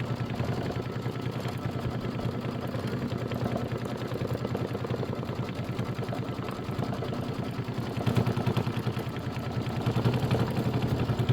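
An embroidery machine sewing a tack-down line on a camel fabric block, a fast, steady mechanical rattle of stitches that runs continuously, close up and alone.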